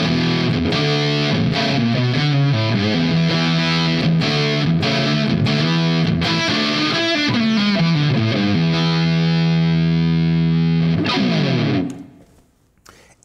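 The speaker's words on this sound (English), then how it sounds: "we'll turn the distortion all the way and see what it does" An electric guitar runs through a Fuzzrocious Cat Tail distortion pedal with the distortion turned all the way up, giving loud, thick, saturated chords and riffs that ring steadily before being cut off abruptly near the end.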